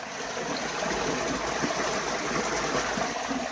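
Steady rushing floodwater pours and gurgles continuously into a drain, a broad close wash of flow with no voices.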